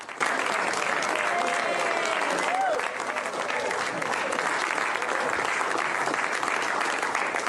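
Applause fills the Oval Office as the US president signs the agreement ending a government shutdown, a loud, sustained room-wide clapping with voices murmuring underneath.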